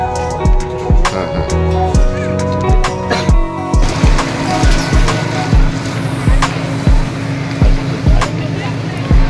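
A six-seat passenger boat sets off on Maithon Dam lake. A loud, steady motor drones under repeated rhythmic thumps and a broad wash of water noise, heard close.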